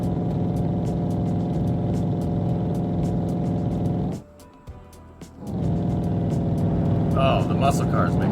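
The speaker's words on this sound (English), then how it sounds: "Oh, the muscle car's making all the noise." A muscle car engine in Cities: Skylines II gives a steady, loud roar with a throaty low rumble throughout, briefly dropping away near the middle before resuming at full strength.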